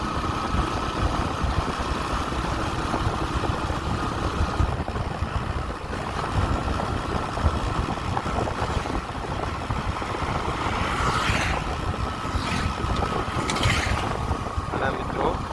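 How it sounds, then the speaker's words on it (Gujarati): A motorcycle rides along a village road, with a constant loud roar of engine and buffeting wind noise filling the whole stretch, close and unbroken. "પવન અને બાઇક ઉપર આટલો અવાજ હોય છે પવનનો"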